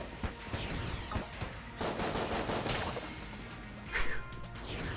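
Rapid gunfire in the Enter the Gungeon video game, bursts of repeated shots and crashing impacts with short pauses, loud and busy throughout.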